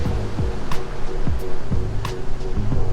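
Atlantic Ocean surf washes steadily beside a pier at Myrtle Beach, a continuous broadband rush with a few sharper splashes against the structure, heard alone with no talking.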